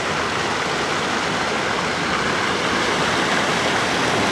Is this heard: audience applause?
no